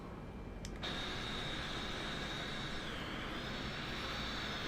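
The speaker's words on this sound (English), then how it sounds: "Starting engines 1 and 2." Airliner jet engines one and two spooling up in a flight simulator, a steady broad roar with a rising whine, heard alone with a brief click near the start.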